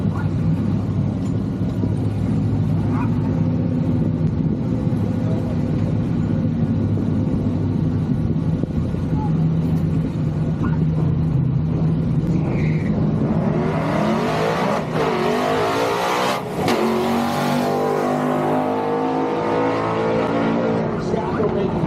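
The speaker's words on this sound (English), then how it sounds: "Battling up the station 66 Galaxy next, Terry Scott on the left side." Drag racing gasser cars at a strip, engines droning and revving at the line before a loud launch roars up and sweeps past, with a public-address announcer talking over the engines.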